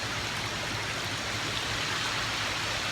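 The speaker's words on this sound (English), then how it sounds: "it's a lovely little waterfall, or sorry, little river going into" A small river runs under a bridge into Loch Lomond on the West Highland Way, giving a steady, full rushing wash of water that stays even and close throughout, with no voices.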